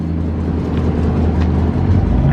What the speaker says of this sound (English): Get in there and rev it real quick.